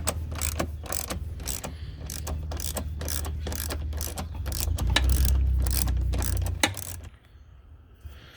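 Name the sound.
ratchet with 10mm socket loosening a bolt on Ram TRX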